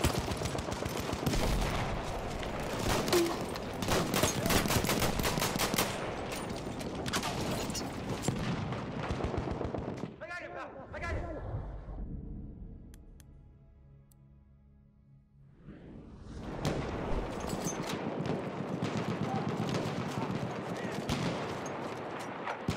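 Heavy gunfire and explosions from a Battlefield 1 multiplayer battle, loud dense bursts filling the first ten seconds, a brief lull with ringing tones, then sustained shooting resuming toward the end.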